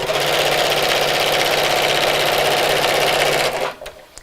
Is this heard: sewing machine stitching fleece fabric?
yes